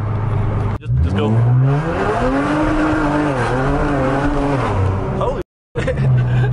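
Infiniti Q50 with loud exhaust accelerating hard at night in Mexico, the engine note rising through gears with a sharp drop at a shift, loud and close, with people talking over it.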